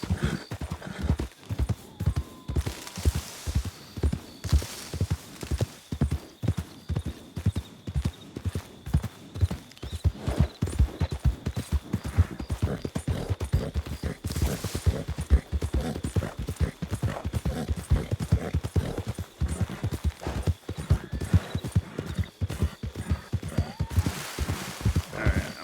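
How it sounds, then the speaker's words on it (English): Horse hooves clip-clop in a steady walking rhythm through a Western video game (WildRP) setting, close and continuous with occasional louder stretches and no talk. "I don't tire out my horse"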